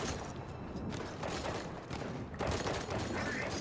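Gunfire from the video game Halo 5: Guardians rolls continuously in dense bursts, loud and full under a busy game mix with a brief dip partway through.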